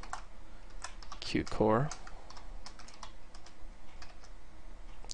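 Quick keystrokes on a computer keyboard set up for gaming, a steady patter of light clicks close by, with someone speaking briefly over the typing.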